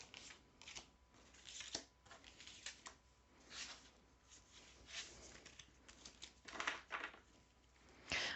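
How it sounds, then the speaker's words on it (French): Tarot cards being shuffled, drawn and laid out for a nine-card spread; soft papery flicks, snaps and slides in quick irregular bursts, close but quiet, no voice. "je vais tirer 9 cartes."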